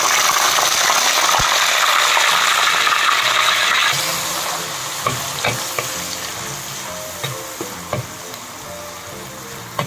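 Ground onion paste fries in oil in a clay pot, starting as a loud steady sizzle that quietens partway through, followed by scattered sharp clinks and scraping stirs.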